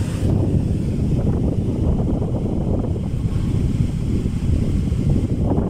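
A Synergy 10-inch floor fan runs on speed 2, a strong, even low whoosh of moving air buffeting close to the microphone, continuous and loud with no voices.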